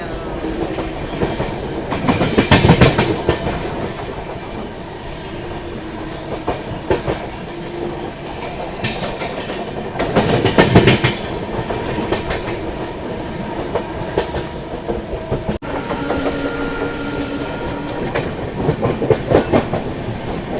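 Tamil Nadu Sampark Kranti Express rolling slowly on rails, a steady rumble with rhythmic clickety-clack wheel beats that swell into louder bursts as the carriages cross rail joints.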